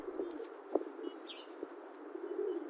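Ornamental pigeons coo softly nearby, a few low, brief calls spaced out over a faint background hum, with a light flutter of wings.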